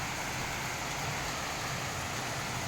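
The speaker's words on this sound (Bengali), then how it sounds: "প্রচণ্ড গরমের পরে জানালায় যখন বৃষ্টি হয়" Rain falls outside a window on a dark, cloudy afternoon after a spell of intense heat, a constant soft wash of drops with no voices.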